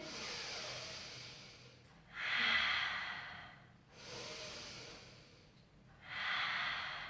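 During a Pilates mobility and strength session, slow, audible breaths come close to the mic, with long exhales alternating with two stronger inhales in a calm, even rhythm and no talk.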